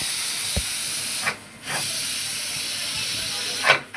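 A pressure cooker of cowpeas (chavli) vents its steam after the whistles, a loud, continuous rushing hiss that drops out briefly twice before surging again.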